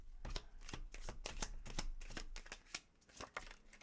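A deck of tarot cards being shuffled close up, a rapid run of crisp flicking riffles with a few brief pauses, no talking.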